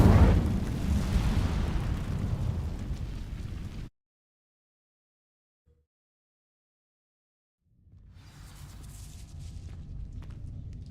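A fire spell ignites dry vines in Hogwarts Legacy with a loud roaring burst that fades out over about four seconds. Silence follows, then a low rumbling ambience returns.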